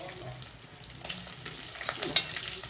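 Green chillies and tomato fry in oil with a soft, steady sizzle, and a few stirring scrapes and clinks rise near the end; no one speaks.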